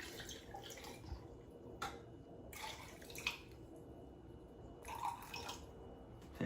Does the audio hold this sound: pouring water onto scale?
yes